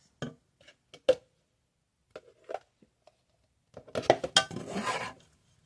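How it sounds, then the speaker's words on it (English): A big spoon scrapes homemade applesauce from the bottom of a pot, scattered soft clinks at first, then a dense burst of metal scraping and clanking near the end. "Scrape it out the bottom."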